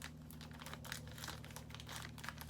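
Scissors snip through a plastic bag close up, giving quiet crinkling and rustling with a few sharper cuts in quick succession.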